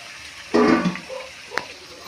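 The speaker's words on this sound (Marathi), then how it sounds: "तर इथं पाणी आहे तांब्यामध्ये आणि ते आता आपल्याला याच्यामध्ये टाकायचं आहे" Water from a pot is poured into frying fish curry in one short splashing gush with a brief hiss, followed by a faint later clink.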